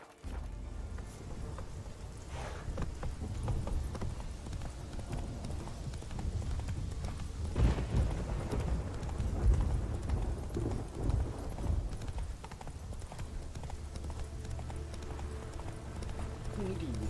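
Roach the horse galloping in The Witcher video game, with rapid rhythmic hoofbeats pounding steadily throughout under ambient game sound, moderately close.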